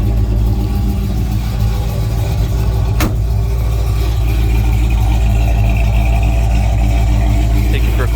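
A 1955 Chevrolet Bel Air with a fresh 355 engine and TH400 transmission drives steadily with a loud, continuous low engine rumble, close up, with one sharp click partway through.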